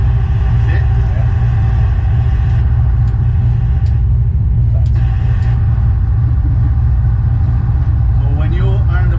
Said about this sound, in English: when you are in the plane and you hear this noise, you know it's the speed brake